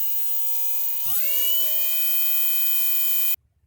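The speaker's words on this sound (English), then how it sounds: "All I'm going to do is just take this wire wheel, I'm going to file this down here." A wire wheel on a power tool grinds down a spot on a boat trailer being turned into a utility trailer: a steady high whine that drops in pitch as it bites, then cuts off abruptly.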